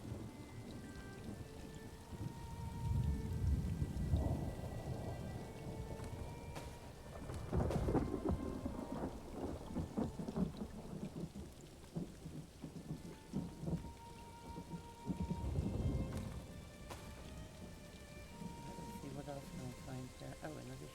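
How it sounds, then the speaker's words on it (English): Steady rain falls in the video game Elder Scrolls Online: Necrom, with thunder rumbling in several rolling swells and a player talking over the storm now and then. "Oh, I hate thunder!"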